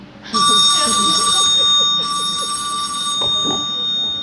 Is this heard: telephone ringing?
yes